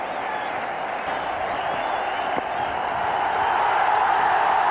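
A large cricket crowd cheering and applauding at a match during a batting partnership, a steady broad roar that swells slightly toward the end.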